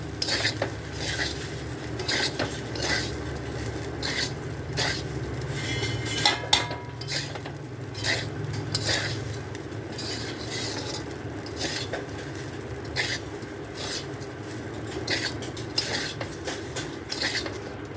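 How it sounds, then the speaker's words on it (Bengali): Cooked rice mixed with sugar is stirred in a pan. A metal spoon scrapes and clinks against the pan in a steady, repeated rhythm, close by, with a faint sizzle underneath and no talking. "এবার খুব ভালো করে ভাতটা মিশিয়ে নেব।"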